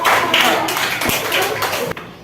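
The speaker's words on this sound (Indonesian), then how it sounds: "Tepuk tangan untuk kelompok." Students in a classroom clap for a group that has just finished its presentation, a dense, steady patter of many hands that fills the whole stretch and sounds close and fairly loud.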